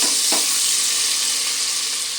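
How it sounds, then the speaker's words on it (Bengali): Onions sizzling in a pan of oil while cooking toward a reddish colour, a steady loud hiss with one clear scrape of stirring near the start. "যতক্ষণ না পেঁয়াজের লাল লাল কালার হবে ততক্ষণ পেঁয়াজটা আমি ভাজতে থাকবো"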